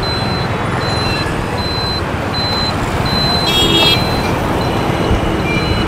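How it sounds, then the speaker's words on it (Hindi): Road traffic rumbles continuously near Dahisar check naka on the Mira Bhayandar road, a loud broad roar of passing vehicles with a repeating electronic beep and a brief horn-like burst partway through. "ये देखिए गाड़ियों की आवाजाही जो चालू है"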